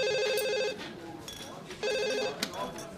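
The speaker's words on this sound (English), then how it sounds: "what's it ringing?" A landline telephone rings in a Scottish sitcom scene, heard while people react in the room: two bursts of a warbling electronic ring separated by a gap, moderately loud beneath the chatter.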